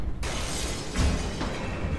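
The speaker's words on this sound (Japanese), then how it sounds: "いや、盛大に割れたね。" Something shatters loudly in the video game The Last Guardian, with a sudden burst of breaking debris followed by continued crumbling and rattling, heard on its own without talk.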